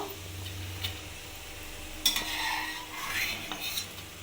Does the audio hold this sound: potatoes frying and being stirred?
yes